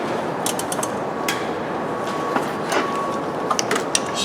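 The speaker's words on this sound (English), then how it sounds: "Ratcheting wrench." A ratcheting wrench tightens a starter bolt on a Hummer H3, giving short bursts of light metallic clicks over steady broadband background noise in a garage-like space.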